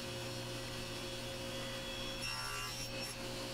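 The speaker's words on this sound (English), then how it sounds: "And then I cut in a slot for the top to slide in on both of the sides." A hand saw cuts a slot into the side of a small wooden puzzle box so a lid can slide in, giving a steady, close rasping that runs throughout over a constant background hum.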